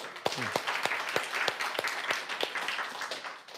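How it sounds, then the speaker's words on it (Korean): Scattered handclaps from a church congregation after members perform a practised recitation, individual claps distinct and fairly sparse rather than a dense roar, moderately quiet and close in the room. "박수."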